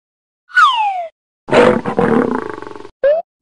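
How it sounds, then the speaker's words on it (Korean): A lion roar in a children's story recording, sounded as loud, close bursts: a falling, wailing cry, then a longer rough growling roar, and a short final yelp. "으아! 사자!"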